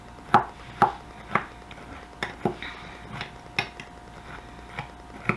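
Chopped nuts with brown sugar and cinnamon stirred in a bowl for coffee cake, a run of sharp, close clinks and taps of a utensil against the dish, spaced irregularly and fairly loud, with no talking.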